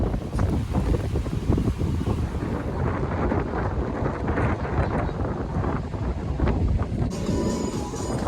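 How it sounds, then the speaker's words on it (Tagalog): Strong wind at a seaside spot in Batangas buffets the microphone, a loud, constant rumbling roar with gusty surges throughout, no voices audible over it. "Grabe pa rin yung hangin. Ang lakas pa rin ng hangin."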